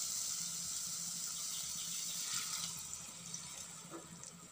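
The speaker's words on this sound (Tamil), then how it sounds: "இந்த ஸ்டேஜில் நம்ம புளி சேர்த்துக்கலாம்." Tamarind extract poured into a pan of ladies finger (okra) curry, a continuous splashing liquid pour that gradually thins out over a few seconds.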